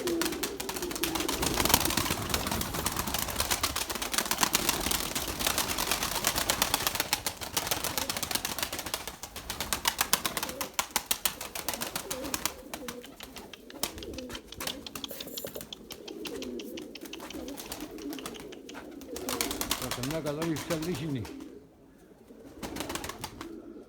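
Pigeons flutter and coo in flight, a dense rapid clatter of wingbeats with low cooing calls, fairly close and continuous before thinning out near the end.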